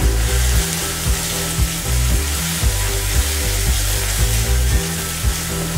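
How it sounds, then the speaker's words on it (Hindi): Frying in a pan while making cucumber raita: a steady sizzle under a loud, rhythmic low mechanical drone that pulses about once a second, no voices. "इसे 1 मिनट के लिए फ्राई करेंगे।"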